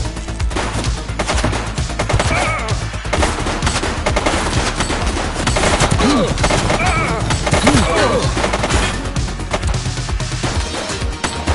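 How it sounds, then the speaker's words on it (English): Gunfire in the police video game The Precinct: loud, rapid bursts of shots crackle densely and continuously at close range, with voices shouting over the shooting. "She's shooting!"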